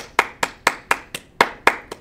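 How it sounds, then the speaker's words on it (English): Steady hand clapping by a single person, eight sharp, close claps at an even quick rhythm with nothing else heard. "Simon says clap your hands, and the whole classroom goes"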